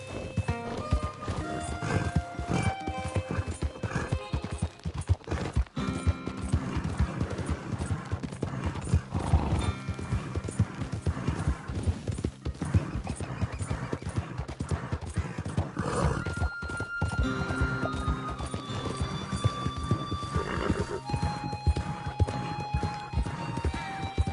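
Horse in Red Dead Redemption 2 galloping with steady clip-clop hoofbeats and occasional whinnies over a busy game soundscape, continuous and fairly close throughout.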